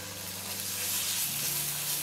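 Drained tinned anchovies fry with shallots in a hot pan, giving a steady, close sizzle that holds evenly throughout with no voices.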